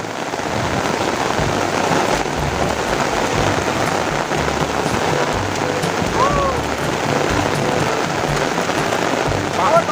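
Heavy rain pours steadily for the whole stretch, a dense close hiss of drops hitting surfaces, loud and unbroken, with a brief faint tonal sound partway through.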